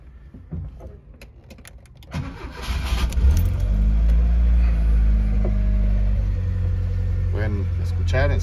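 A 1991 VW Combi Caravelle engine cranks and catches after some rattling and clicks, then settles into a loud, steady low idle close by.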